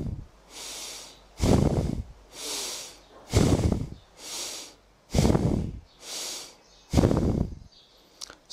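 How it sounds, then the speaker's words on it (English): Slow, deep breathing during a stretching exercise for sciatica relief, with alternating audible inhales and exhales repeating in a steady rhythm about every second, close and breathy, with no speech. "Inhale and exhale."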